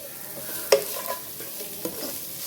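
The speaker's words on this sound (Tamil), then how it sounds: "இப்போ நல்லா தாளிப்போம்" Tempering spices with grated coconut sizzle in a pan for a lentil dish, a steady close hiss with a few sharper clinks of a spoon stirring.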